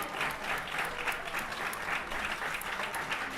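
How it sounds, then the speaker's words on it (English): A Nashville crowd at a baseball game applauds steadily, a dense wash of clapping that holds at an even level throughout, with faint talk underneath. "Chambers gets a good crowd, gets a good applause from the Nashville crowd"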